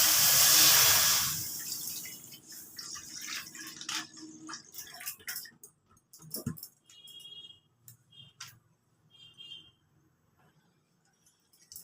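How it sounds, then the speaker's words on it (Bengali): A packet of milk poured into a kadai for kheer: a loud, close gush of liquid lasting about two seconds, then faint clinks and drips while the pot is handled. "প্রথমে কড়াতে 1 প্যাকেট দুধ দিয়ে দিলাম।"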